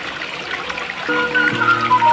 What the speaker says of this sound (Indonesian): ini depan rumah air mengalir